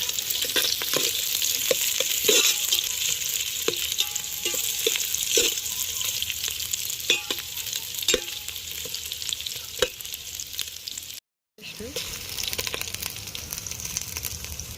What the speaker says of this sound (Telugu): పచ్చిమిర్చి వేసేస్తున్నాను. ఇప్పుడు కలిపేసుకుందాం ఒకసారి.